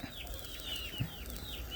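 Chickens cluck softly beside a chicken coop outdoors, repeated short calls at a moderate distance over a low background murmur.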